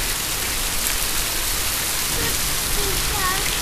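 Steady rain falls through a rainy afternoon, a dense even hiss of drops that holds throughout, with faint voices surfacing briefly near the end.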